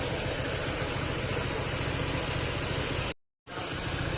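A Honda ADV 160 scooter engine idles close by with a steady, even hum that holds unbroken except for one brief cutout near the end, with no talk over it.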